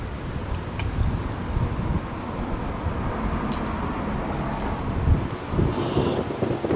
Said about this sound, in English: Oh my god, it's so windy today.